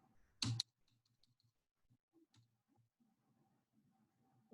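An Alt code is typed on a computer keyboard: one sharp, loud key click, followed by a string of faint, light taps in otherwise quiet surroundings.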